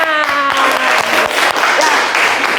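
Children clap in a classroom, a short burst of mixed hand claps that quickly builds, with voices and chatter underneath.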